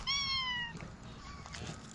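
A cat lets out a clear, high meow up close, followed by quieter rustling and a faint second mew from another cat.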